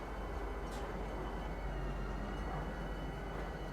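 Train rumbling steadily in the Star Citizen video game at Lorville, a faint, continuous rolling noise with low hum and no talk.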